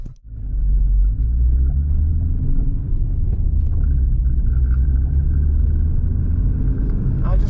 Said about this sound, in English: Just pulling away, the good thing about these Vauxhall 8 valve engines is they always had a good level of torque right from low down